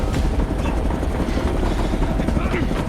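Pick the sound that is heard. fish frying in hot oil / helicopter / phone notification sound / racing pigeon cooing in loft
helicopter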